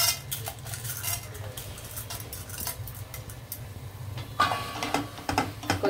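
Chana dal tips into a pan of frying cashews and brinjal, giving light scattered clinks and rattles of utensils against the pan over a low steady hum, with a sharper clatter near the end.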